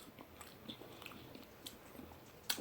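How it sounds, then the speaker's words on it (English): Crunchy bacon on a Little Caesars Smokehouse BBQ pizza is bitten and chewed close up, with quiet, irregular crunches and mouth sounds and a sharper bite near the end. "Bacon's got a little crunch to it."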